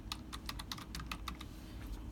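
Fingers type a word into Epic on a computer keyboard, a quick run of a dozen or so crisp key taps, then a brief pause over a low steady room hum.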